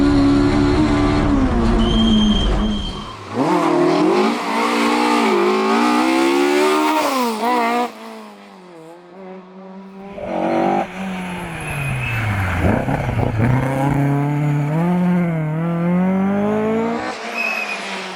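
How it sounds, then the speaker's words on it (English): Historic race cars, including a Ford Escort RS and a Porsche 911, roar past during a 2021 TER Historic rally round, engines loud and near with rising and falling revs, gear changes and tire squeal as the cars pass. "Philip Jordanengo and Josh Reichenegger, with their Ford Escort RS, win the first round of the 2021 TER Historic Prix 81."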